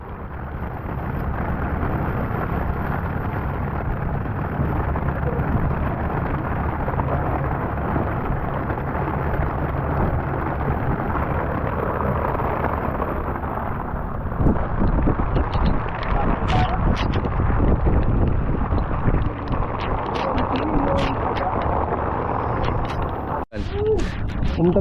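Heavy rainstorm at Manila Bay, a dense steady roar of rain and gusting wind buffeting the microphone, loud and continuous, with brief crackles and sharper bursts later on and voices faintly underneath.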